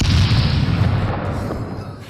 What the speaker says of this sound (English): Let me give an explosion.